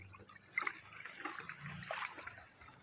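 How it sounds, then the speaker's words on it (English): Homemade amino acid fertilizer liquid being stirred, a soft continuous sloshing and trickling swirl at close range, fairly quiet and steady throughout. "So we just stir it like this, guys, until all of it getting mixed."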